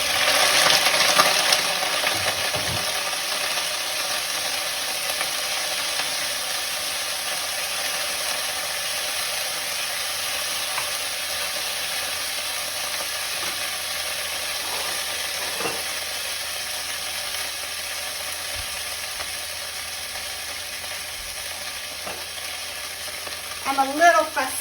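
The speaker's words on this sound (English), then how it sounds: "Now we're gonna add our broccoli and saute that." Wet broccoli sautéing in a hot pan, a loud continuous sizzle and spatter that holds steady for the whole stretch, with a few faint clinks and a brief stir at the end.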